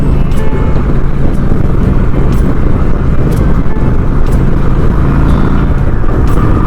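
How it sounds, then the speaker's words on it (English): Honda Shadow 750 ACE motorcycle riding through dense road traffic, a steady loud engine drone with wind rumble and surrounding vehicle noise, continuous throughout. "I don't like being in the pack of traffic like this."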